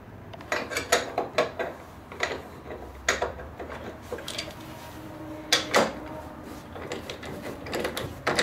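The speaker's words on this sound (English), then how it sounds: "Now I'm just gonna tighten up the axle here" Axle on a Ski-Doo R-Motion snowmobile being tightened with a tool, a close run of irregular metallic clicks and clanks separated by short pauses, quiet with no talking.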